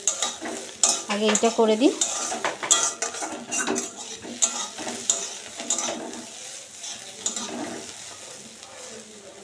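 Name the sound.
frying potatoes in a pan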